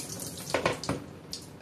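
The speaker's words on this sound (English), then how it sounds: "Here we are, got a good soak, and in goes the good water." Fertilizer-laced water pours onto potted orchids in a few quick, quiet splashing bursts, soft and close with short pauses between.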